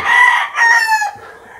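A gamefowl rooster gives one loud, close cock-a-doodle-doo crow that rises, holds and fades, with no talk.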